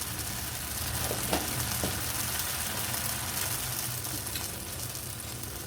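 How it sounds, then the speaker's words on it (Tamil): Vegetables and red chilli sizzle continuously in hot oil for a cowpea kuzhambu, a close, even crackling fry with a few faint stirring knocks. "காயெல்லாம் கொஞ்சம் வதக்கி விட்டுக்கலாம். கொஞ்சம் கலருக்காக வந்துட்டு ரெட் சில்லி போட்டுக்கிறேன்."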